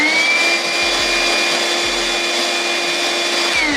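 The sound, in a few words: DeWalt wet vac running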